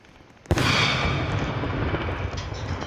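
A bomb explodes in the Roblox game Ragdoll Engine, a sudden loud blast followed by a long roaring rumble that lingers and fades slowly, with no voices.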